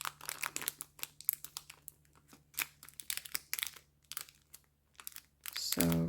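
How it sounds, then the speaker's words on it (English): A craft gift package being taped down, with close crinkly bursts of plastic wrap and tape handling coming in irregular clusters, ending in a brief voice. "I'm going to tape it down just like that"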